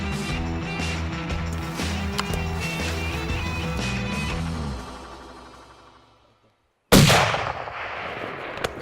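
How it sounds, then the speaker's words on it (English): A hunting rifle fires at a bear on a Montana ridge about 450 yards away. Music fades to near silence, then a single loud, sharp shot bursts out with a ringing decay. "Good gracious. Good shooting, Kenneth."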